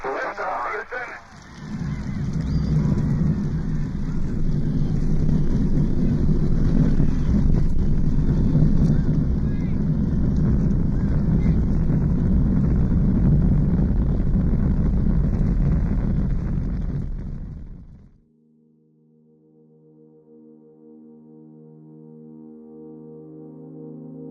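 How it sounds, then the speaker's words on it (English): The Apollo 11 Saturn V main engines roar at launch in a loud, dense, rumbling wall of sound that runs steadily for many seconds, then cuts away abruptly to quiet sustained tones. "We have a go for main engine start. We have main engine start."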